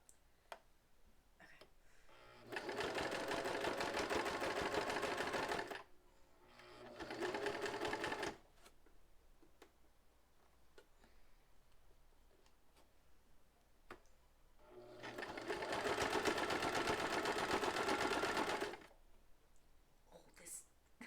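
Domestic sewing machine running in a quiet room, two rapid whirring bursts of stitching separated by pauses, then a longer steady run, each start and stop abrupt, with faint ticks and clicks between.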